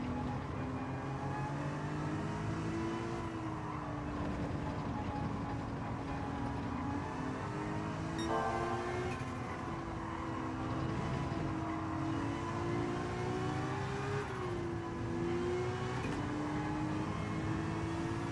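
BMW race car in Gran Turismo 7, its engine droning and revving steadily with rising and falling pitch through gear changes, loud and continuous with no talk.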